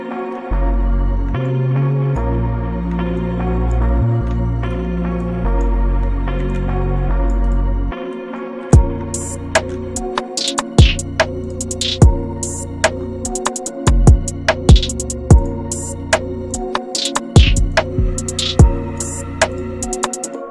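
A dark trap beat made in FL Studio, starting with booming sustained 808 bass notes under a melody, then a stop before crisp snares, hi-hats and kicks drop in with the bass, loud and without vocals.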